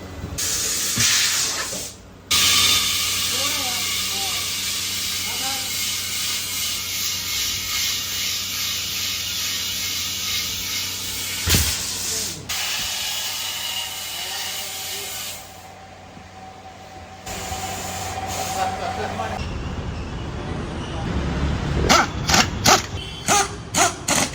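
Air hisses in long, loud, steady bursts while a tractor-style off-road tyre is inflated on a Gypsy, broken by a few sharp knocks and abrupt stops, with metallic clanks toward the end.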